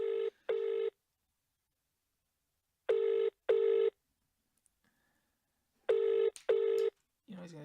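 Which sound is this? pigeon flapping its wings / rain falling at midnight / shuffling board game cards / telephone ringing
telephone ringing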